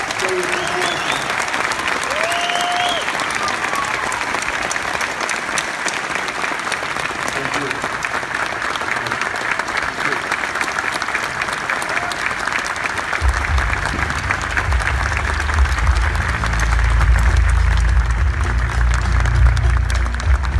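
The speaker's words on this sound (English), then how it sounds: "give him a really big round of applause" Large audience at a Brian Greene science Q&A in the Big Top at Luna Park, Sydney, giving a long, sustained round of applause. Dense clapping is steady throughout, with a low rumble swelling in near the end.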